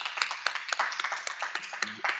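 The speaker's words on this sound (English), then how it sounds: "Can we give a round of applause for our students?" Scattered, fairly faint clapping from an audience at a National Criminal Justice Month keynote event, a sparse patter of individual claps lasting a couple of seconds.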